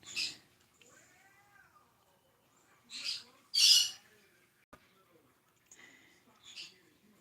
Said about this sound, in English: Sometimes they're just noisy.